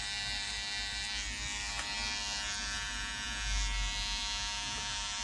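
Electric hair clipper running steadily close up while trimming a moustache and beard, a continuous buzzing hum throughout with no talking.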